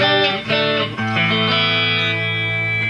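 An electric guitar plays through a Tube Screamer overdrive pedal into a distorted Marshall JVM210 tube amp, chords ringing with a thick, gritty, sustained tone, loud and close.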